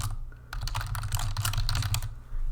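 Rapid keystrokes on a computer keyboard while entering an account name in QuickBooks Online accounting software, a steady close-up clatter of clicks lasting a couple of seconds with a brief pause near the end, no voices.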